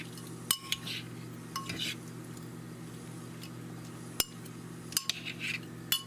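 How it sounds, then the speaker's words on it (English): Honey garlic shrimp being stirred in a dish, heard as a few sharp clinks and taps of a utensil against the dish spread over a quiet, faintly humming background, with no voices. "stir to coat each and every one of them luscious shrimp"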